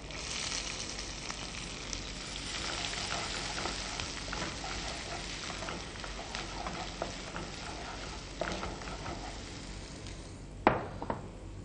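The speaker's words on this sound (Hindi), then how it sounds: "इनको थोड़ा भूनने के बाद इसमें छोटा कटा हुआ प्याज डालें।" Chopped onion frying with nigella seeds in a pan, giving a steady close sizzle throughout, with a few stirring scrapes and a clank of the pan near the end.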